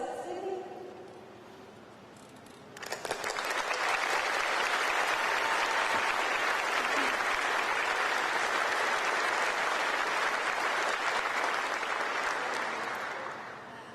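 Sustained audience applause swells up after a brief quieter stretch and holds loud and steady for about ten seconds following Dr. Biden's speech at a military families event during the G7, then begins to fade.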